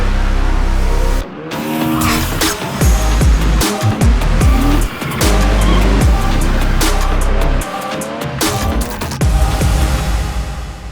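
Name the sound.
drift car skidding with tire squeal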